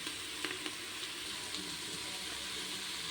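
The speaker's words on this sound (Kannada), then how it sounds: "ಕಟ್ ಮಾಡಿರೋ ವೆಜಿಟೇಬಲ್ಸ್ಗಳನ್ನು ಹಾಕಿ ಸ್ವಲ್ಪ ಬೇವಿನ ಸೊಪ್ಪು ಹಾಕಿ ಚೆನ್ನಾಗಿ ಫ್ರೈ ಮಾಡ್ಕೋಬೇಕು" Cut carrot, beans, capsicum and green peas frying with neem leaves in a pan for vegetable pulao, a steady close sizzle with a few soft stirring clicks, no voices.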